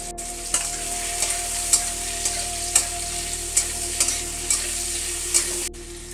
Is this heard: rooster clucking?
no